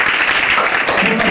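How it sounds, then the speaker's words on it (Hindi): Schoolchildren clap together for a teacher in a brief, steady burst of dense applause that fills the room. "एक बार जोर से रवि सर के लिए ताली"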